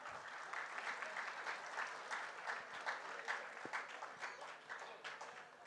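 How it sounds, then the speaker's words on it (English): An audience claps together at a silver jubilee celebration, a dense, sustained round of applause from a hall full of people that stays even and fairly distant throughout. "Let's give a clap"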